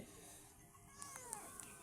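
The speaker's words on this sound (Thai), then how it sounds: "มีคนเอาแมวมาทิ้งตรงนี้นะครับ" Meows from a newly abandoned cat, a few short high calls over steady background noise, fairly faint.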